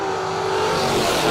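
A 1972 Datsun race car at a drag racing event gives a loud, raspy engine roar that builds steadily over a brief moment, close and with no voices over it.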